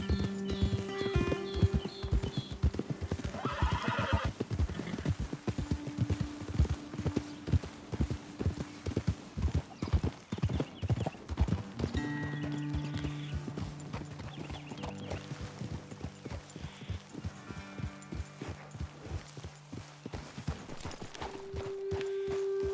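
Horse hooves clip-clopping on a trail in Red Dead Redemption 2, a steady rhythmic stream of close, quick hoofbeats from more than one horse, with soft game music tones underneath.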